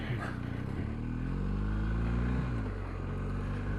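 A 2021 BMW R1250GS Rally SE motorcycle drops into first gear while approaching a junction. Its engine rumbles steadily and loudly up close, and its pitch dips and shifts partway through.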